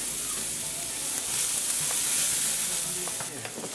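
Carrots sauté in a pan for Trinidad-style fried rice, giving a loud, continuous frying sizzle close up, with a few soft stirring knocks and no talking.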